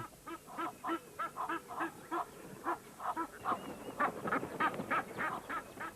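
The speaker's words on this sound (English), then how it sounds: "Packs of Egyptian geese." A flock of Egyptian geese honks repeatedly in short, harsh bursts, the calls overlapping and growing busier toward the end, fairly close with no talking.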